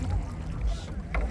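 A motor boat off the coast at Port City gives a low rumble under gusty wind noise, with a voice briefly audible nearby.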